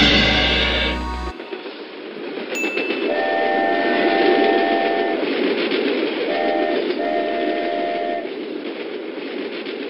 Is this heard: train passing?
yes